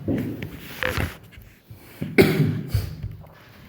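A person coughs several times in short, harsh bursts, close by, with pauses and a little breathing between the fits.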